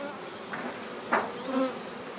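Honeybees buzzing around an opened hive during queen grafting work, a low continuous hum with a few nearer bees passing close by briefly; no voices.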